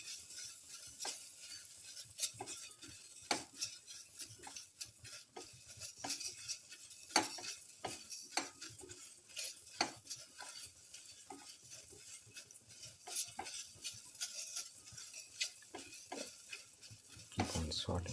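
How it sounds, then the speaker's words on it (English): Banana pieces sautéing with rice flakes in a pan, soft frying sizzle under frequent scraping and clinking stirring strokes, quiet and close. "Keep on sauteing. Salt the banana pieces thoroughly with the rice flakes."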